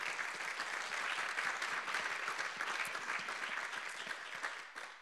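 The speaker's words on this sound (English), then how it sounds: "So how about a round of applause for them?" An audience at a Syracuse University event applauds a support team, dense steady clapping from a sizable crowd, sustained for several seconds before tapering off.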